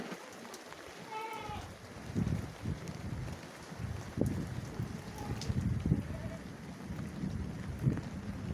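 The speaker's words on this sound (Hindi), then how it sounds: "अब थोड़ी कम हो गया बारिश और हवा तो वही चल रही है, बढ़िया ठंडी" Heavy rain with steady wind in a village during a monsoon downpour, a continuous broadband wash that swells louder after the first second and stays dense, with faint bird-like chirps near the start.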